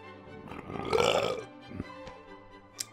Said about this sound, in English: Nice malty burp.